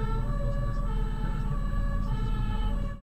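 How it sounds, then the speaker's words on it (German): An ambulance siren approaching from behind wails steadily over traffic rumble, loud and continuous for about three seconds before cutting off abruptly. "Hier kommt jetzt auch ein Blinky mit Blaulicht und Sirene von hinten"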